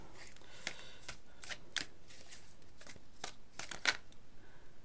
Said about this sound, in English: That's just me being unable to shuffle